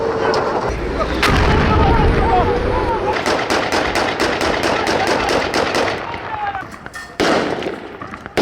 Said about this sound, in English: the Turks and the FSA are still bombing the heck out of everything in sight